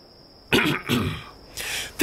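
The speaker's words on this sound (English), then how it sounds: "You can already hear its breathing." An animated cube fish creature, a cross between a toad, a carp and an apple, breathes in rough, throaty bursts: two close raspy exhalations, a pause, then a longer breathy rush and a final short puff over a faint steady tone.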